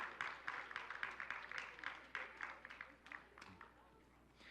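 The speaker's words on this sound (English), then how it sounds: "if y'all give them a round of applause" An audience at an awards ceremony claps steadily in a dense, even round of applause that carries on for several seconds before tapering off slightly.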